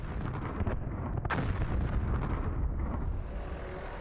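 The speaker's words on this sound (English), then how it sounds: "begin with a set of relatively small charges. Fire in the hole!" Small explosive charges blasting rock above an Arctic dinosaur fossil bed, a heavy rumbling burst with sharp cracks that rolls on for about three seconds and then fades into wind noise, fairly loud and outdoors.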